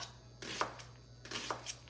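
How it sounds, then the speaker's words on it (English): A ceramic knife chops through an onion on a cutting board, two separate crisp cutting strokes, each a short crunchy slice ending in a light tap, close and quiet over a low steady hum. "what I like doing is using the ceramic knife, just sort of quarter it"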